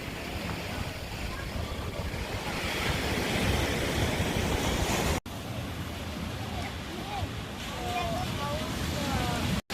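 Ocean waves wash steadily onto a beach in Kuta, Lombok, a continuous broad surf roar with wind buffeting the microphone, briefly cut off midway before resuming.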